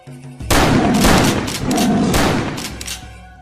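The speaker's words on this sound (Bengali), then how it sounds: "এক্ষুনি গুলি করুন স্যার, গুলি করুন" A loud gunshot blasts suddenly in a jungle and rolls out in a long echoing boom, followed by a second heavy report that fades away.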